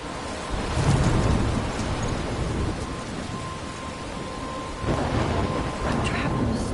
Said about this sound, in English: I'm trapped in the storm.